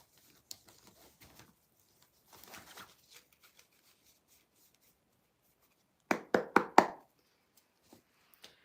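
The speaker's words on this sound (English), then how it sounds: "Shuffling your cards" Tarot cards being shuffled, with faint riffling early on and then a close burst of four quick, crisp slaps near the end of an otherwise quiet stretch.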